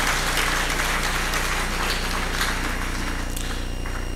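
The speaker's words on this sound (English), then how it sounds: "Louder round of response, applause" A crowd at an anniversary ceremony for a commissioning applauds loudly and continuously, a dense close wash of clapping that holds at an even level throughout without any voices.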